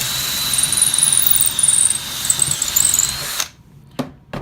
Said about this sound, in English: Now we have a hole here all the way through the dowel.